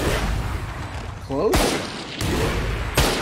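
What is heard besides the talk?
gunshots in a video game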